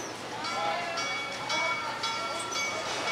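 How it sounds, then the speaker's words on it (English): A train rumbles past at a distance, steady and continuous, with faint metallic squeals and a murmur of voices over it. "There's a train."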